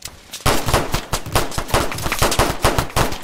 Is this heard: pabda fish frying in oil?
no